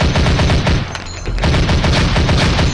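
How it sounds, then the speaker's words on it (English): A submachine gun fires in the video game Zombie Age 2, played on an Nvidia SHIELD TV Pro: loud, rapid automatic shots rattle continuously, with a brief dip in intensity near the middle before the barrage resumes. "charging somebody with the submachine gun and then having it suddenly run out of ammo"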